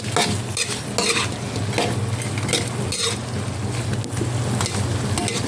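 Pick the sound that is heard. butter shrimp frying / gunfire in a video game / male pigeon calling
butter shrimp frying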